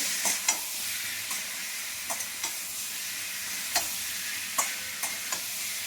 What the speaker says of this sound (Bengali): আর এদিকে মশলাটা কষা হচ্ছে আমার, ভালো করে কষা হোক।